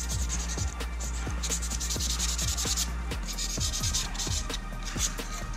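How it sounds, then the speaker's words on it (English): Light hand sanding on a metal vise clamp coated with tap oil, a steady close scraping rub with repeated short strokes in an even rhythm and no voices. "the idea behind it is just a light sand to get any stuff that's built up"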